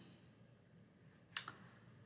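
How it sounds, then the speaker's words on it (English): One crisp computer mouse click, soft and close, stands out alone in a quiet room, followed by a fainter second tick. "click on our CSV"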